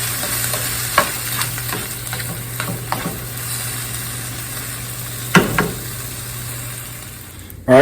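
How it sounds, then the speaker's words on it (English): Roast beef hash with beef stock stirred in a pan, giving a steady low sizzle with scattered scraping strokes of the spoon and a couple of sharper clanks near the end. "All right, stir that a little bit here."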